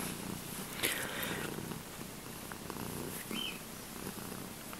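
A soft, low cat purr rumbles steadily and close up, with faint rustling and a few small background noises.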